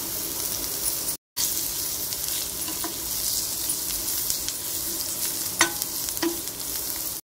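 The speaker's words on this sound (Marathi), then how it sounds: "तर त्यामध्ये आपण बारीक चिरलेली कोथिंबीर टाकूया" Finely chopped coriander is sautéed into a masala in a pan for tomato bhaji, giving a steady close sizzle with a few scattered stirring clicks and one brief gap.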